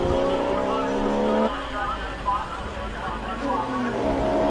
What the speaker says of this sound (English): Phenomenal noise from this Porsche GT3